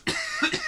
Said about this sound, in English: I'm trying so hard not to cough.